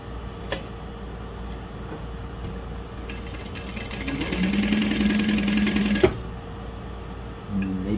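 Juki DU-1181N industrial walking-foot sewing machine stitching through cork, a steady rapid needle chatter building for about three seconds in the middle, then stopping with a sharp clack over a quiet workshop hum.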